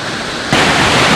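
Yerköprü waterfall in Konya roars as a dense, loud wash of falling water that jumps abruptly louder halfway through, steady and close with no talk.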